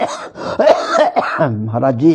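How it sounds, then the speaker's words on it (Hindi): A man coughs and clears his throat in short harsh bursts, close to the microphone, mixed in with a few brief spoken words. "बीच बीच में आपको आवाज मिली होगी खांसी का"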